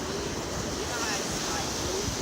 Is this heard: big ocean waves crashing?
yes